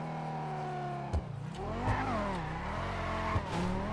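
A car in a GTA roleplay video game accelerates and drifts, its engine droning steadily and rising and falling in pitch as it revs, with brief tire squeals mixed in.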